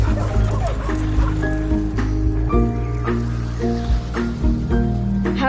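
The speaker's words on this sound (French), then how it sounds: "le personnage qui se fait balader par ses chiens de traîneau" Sled dogs in the video game Red Lantern barking, yipping and whimpering in an excited, overlapping chorus over steady game music, close and continuous throughout.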